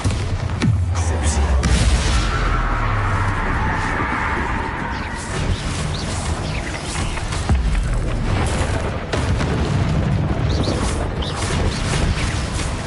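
Bombarda spell blasts in the Hogwarts Legacy video game, a sustained stretch of loud booming explosions and crashes with whooshes, dense and continuous over about thirteen seconds, with a voice speaking over parts of it.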